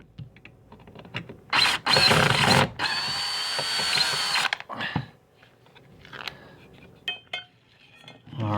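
A Phillips screwdriver unscrewing the metal electrical cover on a dishwasher makes close, loud scraping grinds in bursts, then a longer rasping turn, followed by scattered small clicks and taps.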